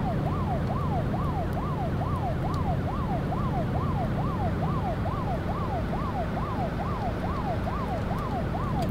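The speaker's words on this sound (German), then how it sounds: "jetzt hab ich mal Blaulicht, hör mal. Die Sirenen" A truck's emergency siren in 18 Wheels of Steel: Extreme Trucker 2 wails in a fast, regular up-and-down cycle. It is loud and continuous over a steady engine and road rumble.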